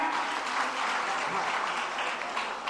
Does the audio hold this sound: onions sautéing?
no